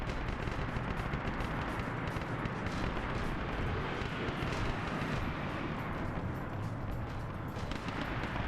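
Heavy artillery cannon fire from a Demolisher tank in a Warhammer 40k battle game, a dense, continuous roar of blasts and gunfire rumbling without pause, loud and close throughout.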